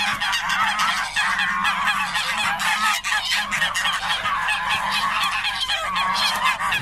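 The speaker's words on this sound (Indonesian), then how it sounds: "Wih, ini ada hewan angsa teman-teman." Geese honking loudly and repeatedly at close range, a dense overlapping chorus of harsh calls that continues without pause and with no talk.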